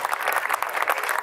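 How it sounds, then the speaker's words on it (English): Brief burst of audience applause at a live jazz concert in Lisbon, a dense patter of many hands clapping, moderately loud and without talk. "give me a big round of applause to my good friend there"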